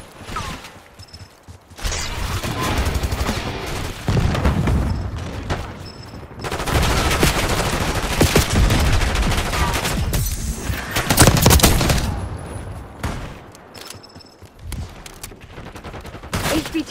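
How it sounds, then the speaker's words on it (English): Sustained gunfire bursts and automatic weapon fire in the video game Call of Duty Black Ops 6, loud and dense with brief lulls, layered with mechanical clanks and booms throughout. "HVT is taking fire."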